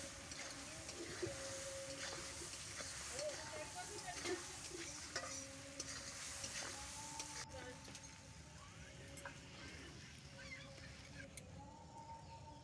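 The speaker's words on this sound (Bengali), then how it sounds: "নুন হলুদ মশলার সঙ্গে ভালো করে আমরা ভেজে নেব।" Crabs fry in a pan with salt and turmeric for a spinach (palong shak) dish, giving a steady, dense sizzle throughout with faint tonal sounds in the background.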